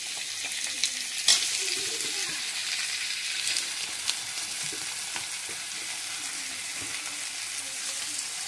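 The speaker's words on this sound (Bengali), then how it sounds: "মাংসটা দিয়ে দিলাম, মাংসটা একটু ভালো করে ভেজে নিয়ে ফিরে আসছি" Chicken pieces sizzle steadily in a pan over fried ginger-garlic paste, a constant hissing fry with a few scraping stir clacks, fairly close and without speech.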